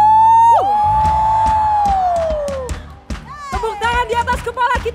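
Church youth Christmas service crowd lets out a long, loud whoop followed by a rising burst of cheering and yelling, with a single voice shouting over it.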